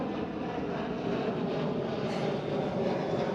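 KLM Boeing 737 airliner at Schiphol, a steady broadband jet engine roar that holds at an even, fairly loud level throughout, with no speech.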